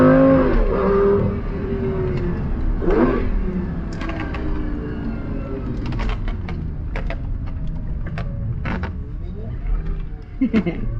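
Engine of a Lamborghini Gallardo on the move after repair work, a loud close drone that swells and eases with throttle, with creaks and knocks from the car over a quiet side road.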